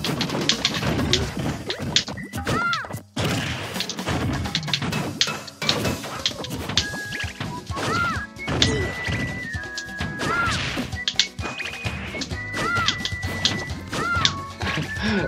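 Forward smash attacks in Super Smash Bros. 4 land as repeated loud impact hits, mixed into busy game music and effects, with no one talking.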